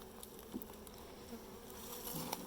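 Honey bees hum inside an open beehive during requeening, a close, steady buzzing drone with occasional louder passes as individual bees fly near.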